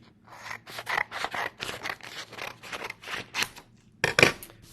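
Scissors cutting paper scenario cards in half, a close series of about ten crisp rhythmic snips, each a short rasping burst, ending with a louder final cut and no talking.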